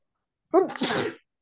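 A single sharp human sneeze during an online IELTS class, a quick intake followed by a breathy burst, close and moderately loud, with silence before and after.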